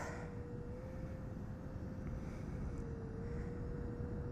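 A Red Arrows BAE Hawk jet climbs after takeoff, a steady, heavy engine roar with a sustained whine riding over it, constant and loud throughout with no voices.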